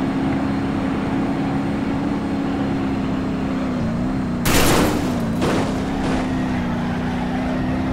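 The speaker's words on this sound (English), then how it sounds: "How do I blow a tire and then the gas tank explodes?" A video game car's steady engine drone runs throughout, broken by a sudden loud burst as a tire blows and the gas tank explodes, followed by two shorter bangs, all close and with no talking.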